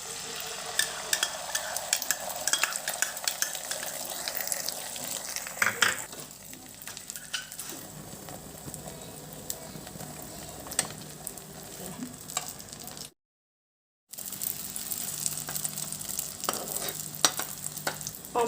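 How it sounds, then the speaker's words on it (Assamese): An omelette fries in hot oil on a gas stove, sizzling close and steadily. Occasional clinks of a utensil against the pan sound through it, with a brief silent gap near the end. "এতিয়া তেল গৰম হ'ল অমলেটখন বনাই লৈছো"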